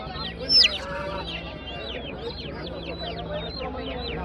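Chickens and a rooster cluck and call at a busy poultry market, with one louder squawk early on over a steady din of many birds, chatter and crowd noise.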